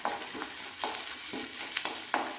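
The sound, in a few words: sautéing small onions in a pan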